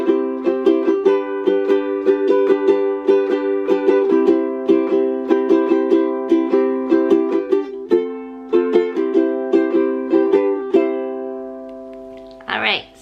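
A wooden ukulele is played alone, close and clear, with steady strummed chords in a lively rhythm and a brief string slide at the end.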